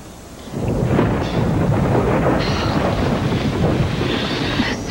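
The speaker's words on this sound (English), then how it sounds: "The storm is starting to blow like stink." A thunderstorm rolls in, with a sustained, loud rumble of thunder and heavy storm noise that swells after the first half second and holds steady, no voices over it.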